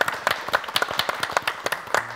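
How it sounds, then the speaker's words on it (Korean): Applause from a small studio group during a church talk program, a short run of distinct, fairly quick individual claps for about two seconds, moderately quiet. "박수 한번 주시기 바랍니다."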